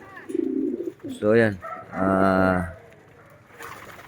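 Pigeons coo in a loft in low, throaty bursts, a few separate calls close by, followed by a brief spoken voice near the end.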